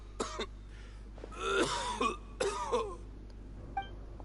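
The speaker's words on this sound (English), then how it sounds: "Why is he coughing so much?" A dying character in Genshin Impact coughs and clears his throat in several rough, wet bursts, a short one and then two longer fits, followed by a faint small catch.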